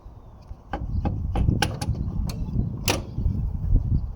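Metallic knocks and creaks as an alternator is wiggled back and forth to work it loose from a 2015 Kia Soul GDI engine, a handful of sharp clicks and clunks over a low rumble, close by.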